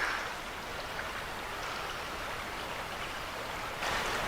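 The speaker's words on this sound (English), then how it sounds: "Yeah, the river is running pretty high. It's pretty murky." A high, murky river swollen after heavy rain rushes steadily in West Virginia, a continuous broadband roar of flowing water heard up close with no voices.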